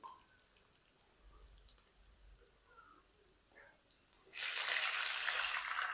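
Water poured from a cup into a hot cooking pan while making potato and semolina snacks, a sudden loud sizzling rush that starts late and holds steady to the end after quiet kitchen background.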